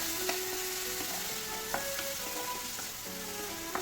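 Vegetables with salt and turmeric fry in a pan for masala upma, giving a constant close sizzle with a few sharp taps of a stirring spoon and no voices.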